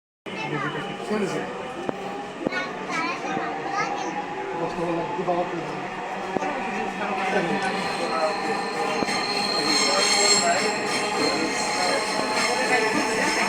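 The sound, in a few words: Dhaka metro rail train moving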